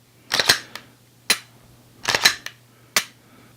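A Glock 17 Gen 5 fitted with an Apex trigger breaks on dry fire, giving a handful of sharp, close mechanical clicks in small clusters with short quiet gaps between them.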